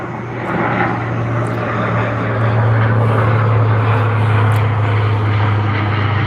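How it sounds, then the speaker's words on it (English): A propeller airplane drones steadily overhead, a loud continuous engine hum that swells slightly midway, with no voices. "airplane flying overhead, so I'm not going to be able to hear myself think for a minute"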